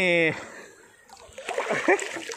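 A burst of splashing from people playing in a river on a hot day, choppy and close, rising and falling with the movement, while voices talk and call over the water.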